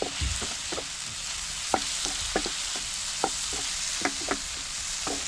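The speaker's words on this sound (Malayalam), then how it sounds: "മല്ലിയിലയും ചേർത്തിട്ട് ഒന്ന് വഴറ്റി കൊടുക്കാം" Onions with coriander leaves sauté in a pan, a gentle sizzle under repeated spatula scrapes and taps at an uneven pace, close and quiet, with no voices.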